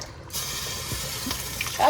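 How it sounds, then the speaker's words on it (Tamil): Water pours into a pot of mutton biryani, a short, close, steady splashing stream with no talking. "நான் இன்னும் ஒரு ரெண்டு கிளாஸ் வந்து தண்ணி விட்டுட்டு அப்படியே மூடி வைக்க போகிறேன்"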